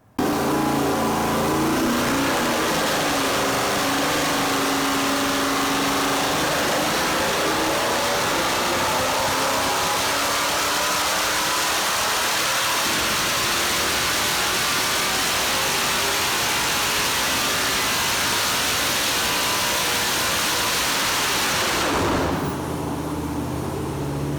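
Turbocharged 4.8-liter LS V8 with an S475 turbo running on a dyno: a loud, continuous engine roar climbing steadily in pitch through a long pull, then dropping off sharply near the end.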